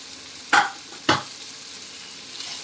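Spices such as coriander powder, red chili powder, garam masala and turmeric are sautéed in hot oil in a pan for a Maharashtrian val (field bean) khichdi, with two sharp stirring scrapes and a steady soft sizzle.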